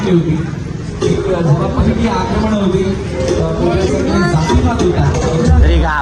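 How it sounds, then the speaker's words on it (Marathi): Dense crowd chatter fills a temple queue, many overlapping voices forming a steady hubbub close around, with no single voice standing out. "भरपूर गर्दी इकडे बघू शकता लाईन बघा शकता तुम्ही"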